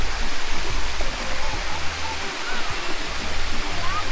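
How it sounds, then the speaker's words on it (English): A steady, loud rush of falling water from a waterfall in Jamaica's Blue Mountains fills the scene, constant and broadband, with some wind buffeting low underneath. "Nice waterfall."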